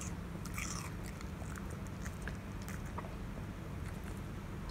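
A sulking puppy chews and bites food, giving soft crunching and gnawing sounds close by over a steady low background hum.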